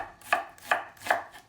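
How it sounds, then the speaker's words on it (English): A knife cuts vegetables into julienne strips for a surf and turf quesadilla, giving three crisp, evenly spaced chops against a cutting board, close and clear with no talking. "I'm gonna do what they call a julienne"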